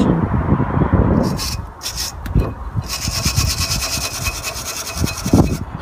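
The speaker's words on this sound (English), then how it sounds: "When we finished cleaning these bits, that allowed us to put brake pads much more easier." Close, rough scrubbing and rubbing while brake caliper parts of an Opel Vauxhall are cleaned, a continuous abrasive scraping with irregular strokes and no speech.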